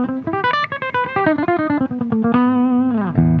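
A clean electric guitar through the USA clean voicing of a Schecter Hellwin amp, with a quick run of plucked single notes and chords ringing out, then a sustained chord that fades into a final strum, loud and close.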